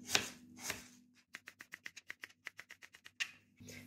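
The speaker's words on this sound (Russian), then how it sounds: "Режем на такие слайсы." A knife cuts quickly and rhythmically through an apple on a board, slicing it into pieces, a rapid run of crisp chops with a few louder knocks around them.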